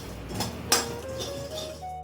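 Sorghum grains pop and crackle in a hot pan with a scatter of small, sharp clicks and one brighter snap, fairly faint and close against a low background hum.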